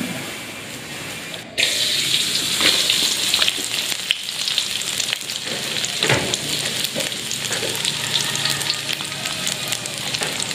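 Food sizzles and crackles steadily in hot oil at an Indonesian rice-packet food stall, a loud continuous frying hiss with occasional stirring clatter, starting abruptly after a quieter moment and running without talk.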